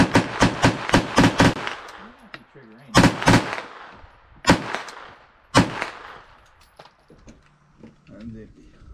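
A semi-automatic AR rifle fired at an outdoor range, a quick string of sharp, loud shots followed by a few spaced single shots with ringing tails, people talking nearby between them.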